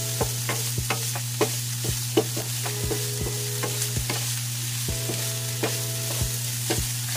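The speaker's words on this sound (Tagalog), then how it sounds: "Lutuin lang muna natin yung ating meat." Pork frying in a pan with a little salt, a steady sizzle running throughout with scattered sharp pops and clinks of stirring, close and moderately loud, no voices.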